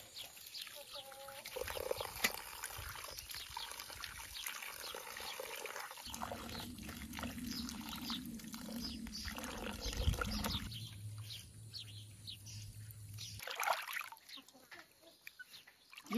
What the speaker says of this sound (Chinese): 把这菜洗一下。